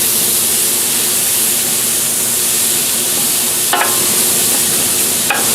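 Onions sizzle steadily in a pan of rendered pancetta fat, a loud, even, hissing fry with a couple of short clicks of a utensil near the end.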